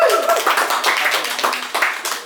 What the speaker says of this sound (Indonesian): Kita berikan tepuk tangan untuk teman-teman Desa Imaji.